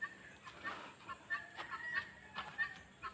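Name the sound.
large bird calling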